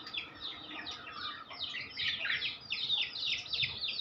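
Parrots kept as pets chirp in a steady stream of rapid high tweets over about four seconds, fairly close and lively, with low background rumble and no voices.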